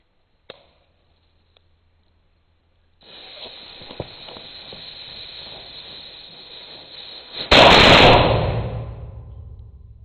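Two faint clicks, then a sustained fizzing hiss builds before a firework explodes in a loud, sudden burst of broadband noise that slowly decays, echoing inside an abandoned train tunnel.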